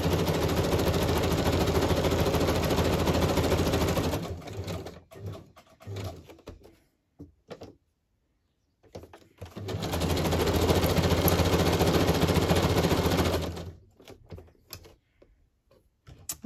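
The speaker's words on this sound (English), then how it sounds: "So first of all, I'm going to stitch around this, and I'm going to zigzag." A sewing machine zigzag-stitches around a decorated journal page in two loud, sustained bursts of rapid needle chatter, separated by a few seconds of quiet handling clicks and pauses.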